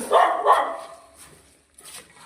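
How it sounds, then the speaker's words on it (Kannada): A dog barks twice in quick succession nearby, fairly loud, followed by a softer trailing yelp. "ನಾಯಿ ಬೊಗಳುತ್ತಾ ಇದೆ."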